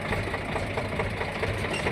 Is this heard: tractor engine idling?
yes